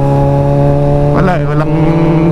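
A big motorcycle hums steadily while riding through congested traffic on the SCTEX expressway, its engine drone constant and close, with a brief burst of other noise in the middle.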